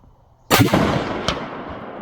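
Firearm discharged at an outdoor shooting range: one sharp, loud crack followed by a ringing decay, then a fainter distant report about a second later.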